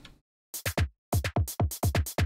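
A short sampled drum loop of three stereo samples on an Assimil8or module, triggered by a Euclidean sequencer, plays alone: punchy kicks and snappy hits in a tight, repeating groove after a brief pause.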